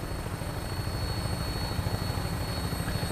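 Vertibird aircraft lifting off in the Fallout 4 video game, a steady loud rotor drone with rhythmic low-frequency thumping and a faint high whine, continuous and without talk.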